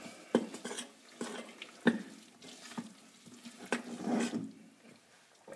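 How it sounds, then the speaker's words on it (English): Spices for lamb shawarma stirred in a bowl, heard as soft, scattered clinks and scrapes of a spoon against the dish, faint and close, with brief pauses between strokes. "And now we're going to give it a good stir around."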